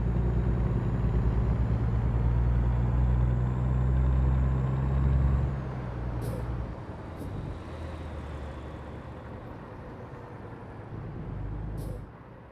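American Truck Simulator truck with a steady, loud engine drone that drops in level partway through, with brief air-brake hisses near the middle and the end.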